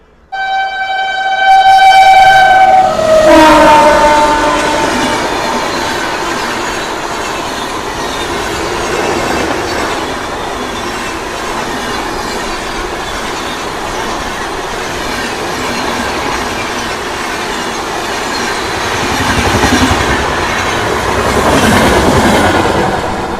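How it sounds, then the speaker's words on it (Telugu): A Rajdhani Express passes at a crossing with a loud horn blast at the start, then sustained clattering wheels and rumbling wagons rolling by close and steady, swelling again near the end. "రాజధాని ఎక్స్ప్రెస్ ట్రైన్కి అయితే మన ట్రైన్ అయితే క్రాసింగ్ అయితే పడింది."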